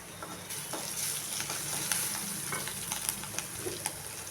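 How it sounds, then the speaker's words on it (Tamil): Curry leaves and half-softened onions frying in a pan, a fairly quiet, crackling sizzle with frequent small pops and stirring clicks, close up and unbroken by speech. "கருவேப்பிலை சேர்த்துக்கிறேன்."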